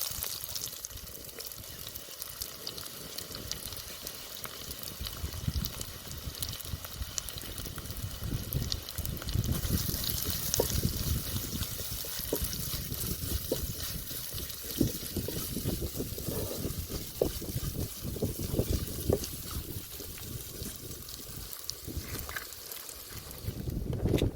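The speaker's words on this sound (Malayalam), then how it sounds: "ഈ സവാള ഇതിനകത്തേക്ക് ഇട്ട് കൊടുക്കാം." Chopped onion frying in hot oil with mustard seeds, cumin and fennel for a Kerala-style vinegar chicken curry: a steady, close crackling sizzle that continues evenly throughout, with no talking.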